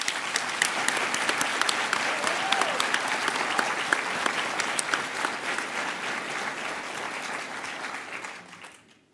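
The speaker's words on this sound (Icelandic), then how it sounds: "Þess vegna ætla ég að byrja á því að láta ykkur klappa fyrir ykkur sjálfum" Large audience at a university graduation ceremony applauding, a dense, sustained roar of clapping that holds steady for several seconds before fading out at the end.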